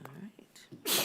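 A single short sneeze bursts out at the end of a council meeting exchange, preceded by a few soft spoken words and breathy murmurs.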